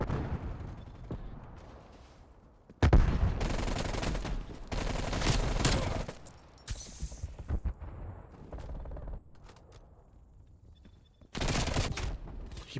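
Bursts of automatic gunfire in Call of Duty: Black Ops Cold War, loud rapid volleys separated by quieter stretches of scattered shots, close and without talk.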